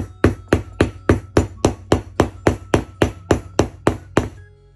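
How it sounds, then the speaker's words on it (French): Thirteen or so sharp metallic hammer taps strike a snap setter at a steady, even pace while setting leather snap fasteners, close up and crisp, with no talking. "faites plutôt de petites frappes successives"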